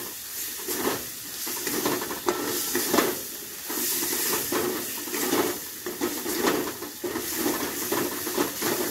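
Masala for potol korma, with Kashmiri chilli powder, sizzling and hissing steadily in a pan with a splash of water, close and continuous with pulsing stir-like swells.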